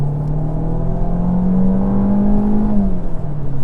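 A DS 9 car engine revs up steadily, its hum rising in pitch for a few seconds before easing off, loud and close with no voices.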